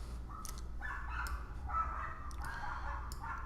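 A dog barks repeatedly at a distance, several separate woofs spread across a few seconds over a low background rumble.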